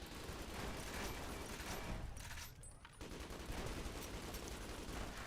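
Turrets and sentry bots fire in sustained, dense bursts in Fallout New Vegas, a loud continuous fusillade broken by a brief lull before resuming.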